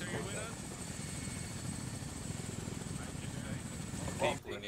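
A Chinook helicopter in the video game Arma 3, its rotors producing a continuous, fairly quiet thumping drone with a steady whine above it, with faint voices in the background and a brief knock near the end.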